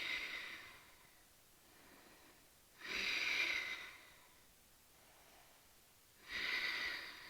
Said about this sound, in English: Take 3 breaths here in locust pose